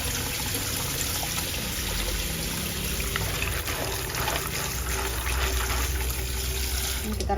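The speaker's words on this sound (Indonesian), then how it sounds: "Ini direndam dulu sebentar atau diremas-remas gini" Jengkol beans soaking in a bowl of water and being squeezed by hand, giving a steady close wash of trickling, sloshing water throughout with no talk.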